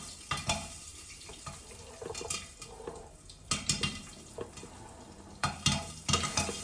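Corn kernels heating in a hot pan begin to pop one at a time: scattered sharp cracks and ticks spread irregularly over a soft sizzling background, close and fairly quiet, with bunched pops in places.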